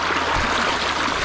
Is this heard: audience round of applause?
no